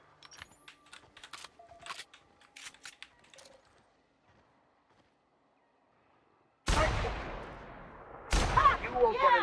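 Cannons fire in The Outer Worlds video game, with two loud, sudden booming blasts in the last few seconds. Each blast is followed by a rumbling decay. Before them come quieter clicks and game sounds, then a near-silent gap.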